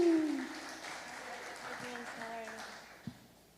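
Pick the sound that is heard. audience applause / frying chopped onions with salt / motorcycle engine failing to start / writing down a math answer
audience applause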